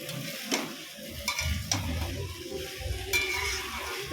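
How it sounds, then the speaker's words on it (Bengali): Ginger and spices, with cumin powder added, are sautéed in a pan for a vegetarian dish, with a steady close sizzle and repeated sharp scraping strokes of a spatula against the pan. "এবার ভালো করে আমি আস্তে আস্তে কষাবো।"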